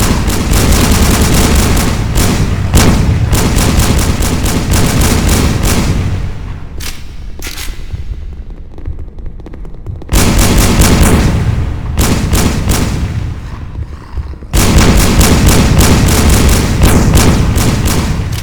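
Sustained, loud automatic gunfire in the VR shooter HordeZ, fired down corridors, with dense bursts of rapid shots broken by two brief lulls before the firing resumes.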